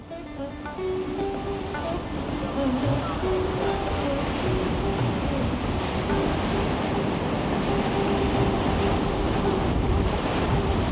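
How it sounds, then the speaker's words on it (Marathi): Ocean surf rolls onto Tambaldeg beach near Midbav village in Sindhudurg, a loud continuous wash of breaking waves mixed with wind buffeting the microphone, no voices. "या गावाचा हा समुद्र किनारा तांबळडेग या नावाने ओळखला जातो."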